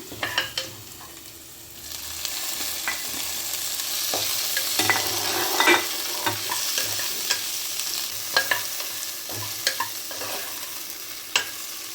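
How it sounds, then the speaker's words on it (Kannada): Okra tossed into a hot pan with garlic, sizzling steadily while a utensil scrapes and knocks against the pan in irregular bursts, close and fairly loud. "ಫ್ರೈ ಆದಮೇಲೆ ಈ ಬೆಂಡೆಕಾಯಿ ಹುರ್ಕೊಂಡಿದ್ನಲ್ಲ ಅದನ್ನು ಹಾಕ್ತೀನಿ"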